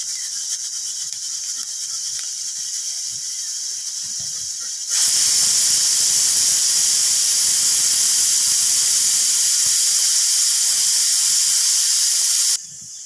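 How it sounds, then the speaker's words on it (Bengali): Pressure cooker with beef cooking inside, a faint steady hiss at first, then a loud, sharp, continuous steam whistle lasting about eight seconds before abruptly dropping back, heard alone. "প্রেশার কুকারে একটা গোশতটা রান্না করা হয়ে গেছে, অনেকগুলো সিটি দিয়েছে"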